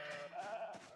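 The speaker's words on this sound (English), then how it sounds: "really nasty stress out noises when they are agitated" Agitated pigs in the survival video game Project Zomboid give a short, strained, bleating squeal of stress that wavers over about a second, quiet and alone.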